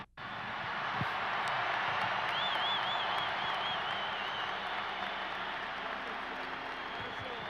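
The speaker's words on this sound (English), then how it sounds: "A round of applause for the best coach in Major League Soccer" A stadium crowd at a soccer farewell ceremony applauds Sounders coach Sigi Schmid, a broad, steady wash of clapping that fills the whole stretch at moderate distance, with a faint whistle-like tone drifting over it.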